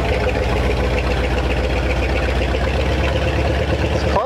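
A 1957 Chevy Viking truck, abandoned for 50 years, drives on low gearing. Its engine drones loud and steady, with the rumble and whirring of a worn carrier bearing running throughout.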